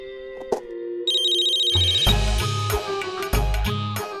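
Telephone ringing in a Hindi TV serial scene, a bright bell-like ring rising and repeating over heavy music and dramatic low hits, fairly loud and continuous.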